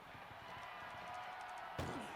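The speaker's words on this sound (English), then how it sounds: "slamming the ambulance doors on him" Ambulance doors slam shut in the wrestling video game WWE 2K24, one sharp thud cutting through steady crowd and arena noise.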